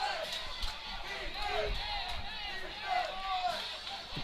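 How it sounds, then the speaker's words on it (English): The home-side crowd at a high school football game yelling and whooping from the stands to disrupt the opposing offense, a rowdy sustained roar of voices with shouts rising above it, while an announcer talks over it. "Highland Home crowd over here trying to make some noise to see if they can disrupt some of the timing of the Luverne offense."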